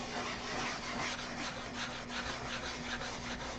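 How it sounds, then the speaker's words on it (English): Wet sanding a clear finish with 2000 grit paper produces a continuous soft rasping rub, steady back-and-forth strokes at close range with no talking. "So if you listen, you can hear it. It sounds like we're sanding."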